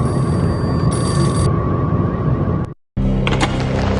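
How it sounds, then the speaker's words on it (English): Payphone ringing in Max Payne Mobile, a steady electronic ring tone over a low rumbling background for nearly three seconds, then a brief silence and a change of scene. "The payphone started to ring."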